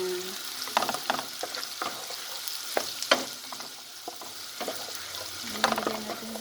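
Shrimp sizzle in butter in a hot pan, a steady close frying hiss broken by the clinks and scrapes of stirring throughout, with no talk.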